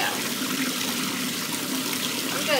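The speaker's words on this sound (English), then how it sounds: "going to turn the water up a little bit." Tap water runs through a kitchen strainer while a cocktail is made, producing a steady splashing trickle and rush, close and continuous, with a faint voice in the background.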